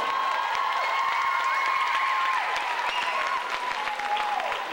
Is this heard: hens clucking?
no